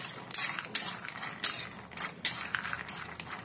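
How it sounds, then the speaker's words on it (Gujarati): Raw peanuts being mixed with a spoonful or two of water in a bowl give a run of sharp clinking, scraping strokes, about eight irregular hits close by with no talk. "થોડા પાણીમાં જ આપણે આ રીતે મિક્સ કરી લઈશું."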